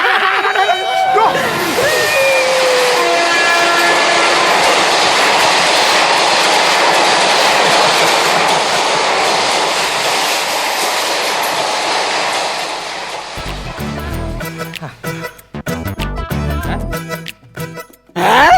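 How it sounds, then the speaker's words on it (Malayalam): A train rolls loudly along the track for most of the span, a continuous heavy rumble and rattle that breaks into choppy, uneven clatter near the end as it moves off. "ട്രെയിൻ പോയി തീരട്ടെ."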